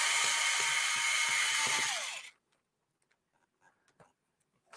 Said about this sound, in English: I'm just using a screw driver that doesn't go at a very high rate of speed.